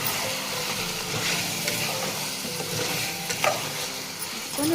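Chicken curry with chili powder is stirred in a hot pan, a steady sizzle and frying hiss running throughout with scraping spoon strokes and a few sharper clinks near the end, close and without talk.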